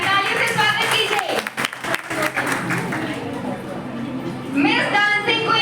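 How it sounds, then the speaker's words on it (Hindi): Audience applause and cheering welcome an awardee at a college B.A. farewell party, loud and dense throughout, with crowd voices mixed in and a brief lull midway before the clapping swells again near the end. "तालियों से स्वागत कीजिए"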